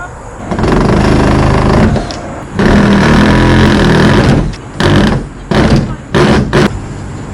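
Power driver running in bursts as screws are driven through the body to fit a kitchen window into a van, several loud whirring runs with short pauses between them.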